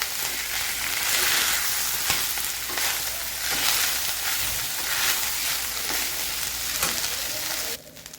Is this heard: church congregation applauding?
no